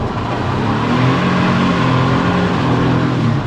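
A car's engine holds a loud, steady droning rev with a gritty tone during a test drive, sustained without a break and with no voices over it.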